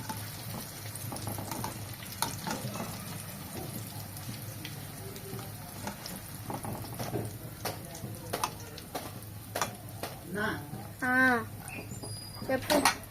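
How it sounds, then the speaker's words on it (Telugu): Garelu (vada) deep frying in oil sizzle and bubble with a faint, steady crackle in an outdoor kitchen during village Holi celebrations, while voices chat intermittently nearby. "అవి మంచిగా ఆయిల్లో డీప్ ఫ్రై అవుతుంది."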